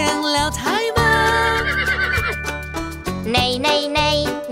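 A horse neighs loudly and up close in a long, shaky whinny that rises and falls, followed by further bursts, with no talk over it.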